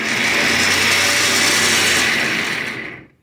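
A Vevor winch mounted on a trailer powers in synthetic rope with a steady, loud electric motor whine that holds evenly, then winds down and cuts off near the end.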